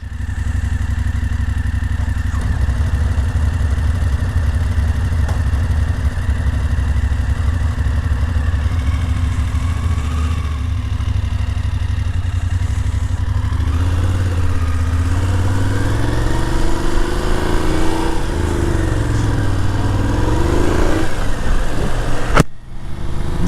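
A motorcycle engine drones steadily and loudly on a mountain ride near Hemsedal, Norway. Its pitch rises and falls as the bike changes speed, and a brief dropout comes near the end.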